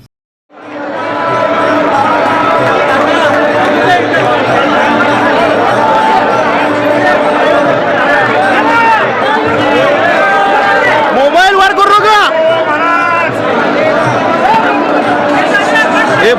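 A large crowd of devotees fills the Sadguru Shri Prabhakar Swami Maharaj temple during a saints' meeting ceremony, a dense, steady hubbub of many voices chattering close by, with a brief burst of higher calls partway through.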